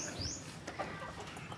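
Backyard chickens fed on tahop corn bran cluck softly nearby in a short murmur of low clucks and a few higher calls over faint background noise, with no one speaking.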